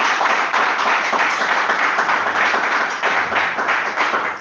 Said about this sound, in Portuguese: vamos louvar o Senhor com palmas bem forte para Ele